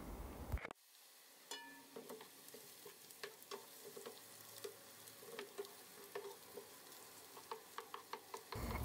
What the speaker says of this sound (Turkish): soğanları kokusu çıkana kadar ara sıra karıştırarak kavuralım